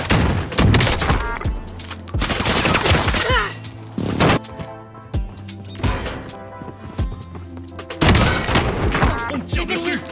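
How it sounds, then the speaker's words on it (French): Gunfire in the video game Warzone: rapid bursts of shots and fusillades with heavy impacts and thuds, loud and close, separated by short gaps, with voices talking among the shooting. "On tire dessus."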